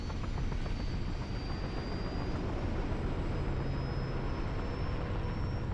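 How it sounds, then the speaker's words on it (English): A helicopter in the video game Resistance: Fall of Man gives off a steady, droning rotor and engine roar that stays loud and unbroken throughout, with no talking. "How that chopper or whatever didn't blow up."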